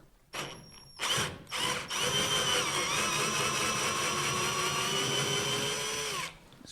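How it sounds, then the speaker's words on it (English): A power drill loosens the bumper bolts on an Opel Rekord C: a couple of short bursts, then a sustained, loud whirring run of about four seconds that cuts off abruptly, heard up close. "need to loosen these bolts that sits in here on the bottom"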